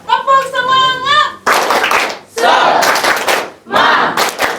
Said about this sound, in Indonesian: Oke, siap ya? Tepuk semangat.